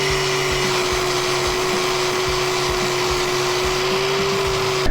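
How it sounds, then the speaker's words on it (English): A flap wheel on a grinder cuts off a lock nut on a racing lawn mower, a loud sustained high-pitched whine with a steady tone and a rhythmic pulsing undertone, running continuously without talk. "I'm actually just going to take that off with a flappy wheel"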